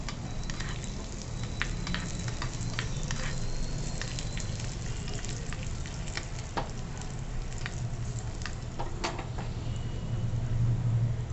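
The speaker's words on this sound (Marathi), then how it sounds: "काजू आणि बदाम आपण थोड्या तुपावर परतवून घेऊ" Soaked, peeled almonds and cashews fry in a little ghee for rice kheer, giving a continuous low sizzle dotted with small crackles and pops, plus occasional light stirring clicks, close and steady throughout.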